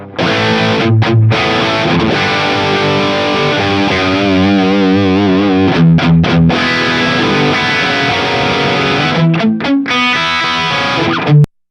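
Loud, heavily distorted electric guitar playing chords and riffs through a high-gain amp, with brief stops and a sustained final chord.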